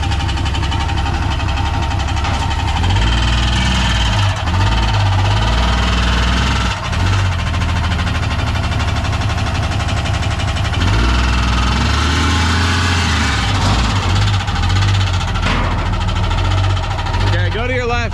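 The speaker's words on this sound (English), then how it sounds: "his truck started making this noise" Truck with a broken transmission, driving: a loud, constant engine drone with a knocking, vibrating mechanical noise and low rumble throughout, while people talk over it.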